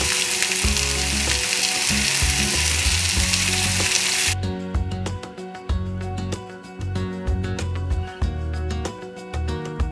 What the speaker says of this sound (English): I like my steak quite rare, so cook for around 2 minutes on a super hot heat on each side.